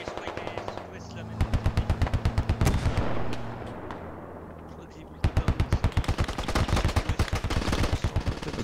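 Incoming gunfire in the military shooter Squad, with rapid automatic bursts of closely spaced shots, loud and near, broken by a short lull and then a renewed dense burst.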